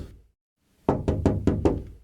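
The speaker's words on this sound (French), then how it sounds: "Et il commença à taper aussi à la porte." Knocking on a door: after a brief pause, five firm, evenly spaced knocks land close and loud in a steady rhythm, with no voices.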